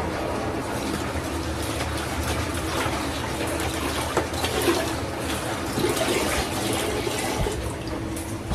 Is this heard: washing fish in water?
yes